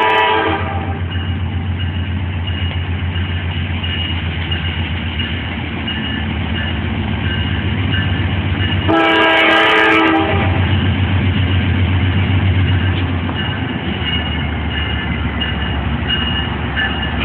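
A loud Norfolk Southern freight train horn blasts once for about a second over the heavy rumble and clatter of the passing three-locomotive freight train on a city street.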